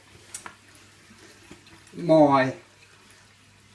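Hot water gushes from a tap into a hose connected to a pump setup, a short loud burst of running water after quiet moments with a few faint clicks.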